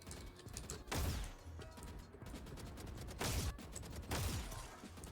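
Rapid gunfire sprays from a first-person shooter video game, coming in a few loud bursts spread over a steady background of game noise, with no talk.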